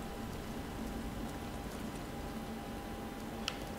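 Steady, soft rain hiss in the video game Detroit: Become Human, with faint scattered ticks of drops, continuous and even throughout, no voices.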